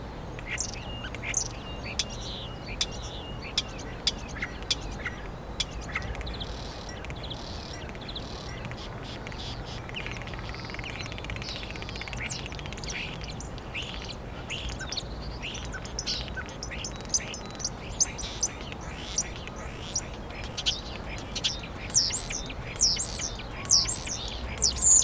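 A common starling sings from a rooftop in Kensington Gardens and Hyde Park, London, in April, mixing imitations of other birds. Its bursts of chirps, whistles and squeaks grow denser and louder toward the end over a steady outdoor hum.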